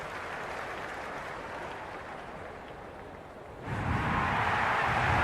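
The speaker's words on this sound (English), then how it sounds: "already the crowd making a hell of a racket" A crowd at a Big Bash T20 cricket match between the Hobart Hurricanes and Melbourne Stars cheers and makes noise, a broad, steady roar heard from a distance that swells louder near the end, with no talking.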